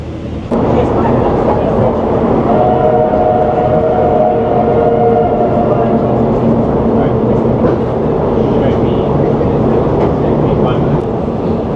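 Steam train rolling slowly along the rails, a constant rumbling clatter with a brief tonal whine partway through, running nearly twelve seconds; Hotham Valley Express in Australia.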